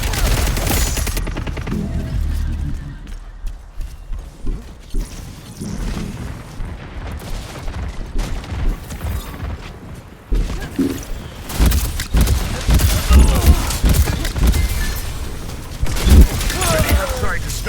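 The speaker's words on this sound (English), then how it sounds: "Incoming grenade!" Grenade blasts and rapid gunfire from the video game Concord crackle in dense, overlapping bursts, with booming impacts stacking up toward the end while a voice speaks over the combat.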